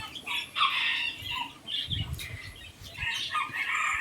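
White Tom Tam bantam chickens in Khon Kaen flap their wings and squawk in bursts, with clucks and scattered calls over a steady outdoor background.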